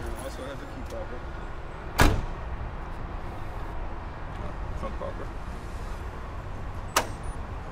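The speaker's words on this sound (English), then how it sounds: "I'm gonna pop the trunk right now" The trunk of a 1986 Buick Grand National pops open with a sharp mechanical latch clunk, and a second smaller click follows a few seconds later against a steady outdoor background.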